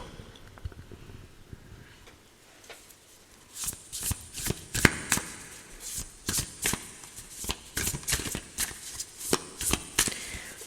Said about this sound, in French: on va battre les cartes